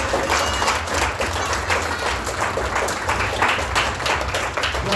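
A church congregation applauding during a service, a dense, steady wash of many hands clapping together, loud and sustained throughout with faint crowd voices underneath.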